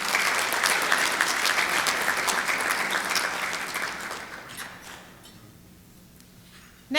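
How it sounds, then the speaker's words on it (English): Applause from members at a Rotary club meeting, a steady round of clapping that fades away over the last couple of seconds before a voice starts at the very end. "Let's give them a round of applause."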